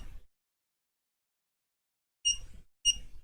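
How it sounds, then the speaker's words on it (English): A small quadcopter beeper sounds two short, shrill electronic beeps about half a second apart, close and clear after a stretch of silence, following a brief low handling thump at the start. "It's a pathetic little beeper on that quad"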